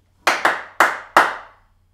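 Four crisp, sharp hand claps ring out in a solo jazz dance class, sounding close and alone in an uneven rhythm, each with a short ringing room decay.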